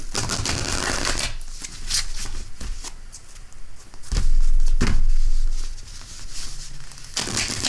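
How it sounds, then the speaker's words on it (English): A tarot deck, the Revelations Tarot with stained-glass artwork, is shuffled by hand in close, crisp bursts of riffling and sliding cards separated by short pauses. "I like to shuffle my cards backwards, upside down, to make sure they stay in good, proper form."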